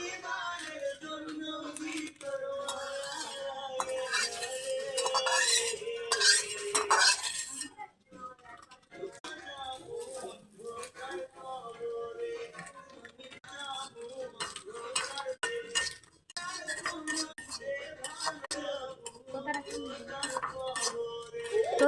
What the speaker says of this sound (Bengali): তো সুজিটা লাল করে ভেজে নিচ্ছি।